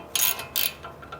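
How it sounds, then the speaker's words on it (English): Two quick metallic clicking bursts from a ratchet working loose a rounded bolt on a Toyota Tacoma, then fainter ticks, close and alone with no talk. "ratchet"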